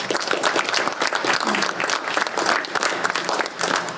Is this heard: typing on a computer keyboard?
no